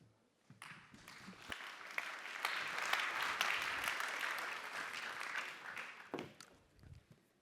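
An audience at the Berlin Global Dialogue applauds as moderator Larry Madowo is welcomed; the clapping builds quickly, holds steady and moderately loud for several seconds, then trails off into a few last claps.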